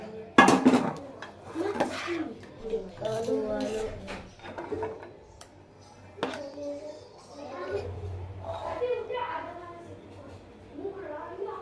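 A cooked mango mixture is poured onto metal plates, with clattering dishes and scraping utensils at close range while people talk over the work.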